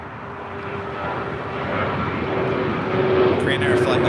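An American Airlines jet takes off from runway 25 Right at LAX, its engine roar building steadily from a distance and growing louder toward the end, with no talk over it.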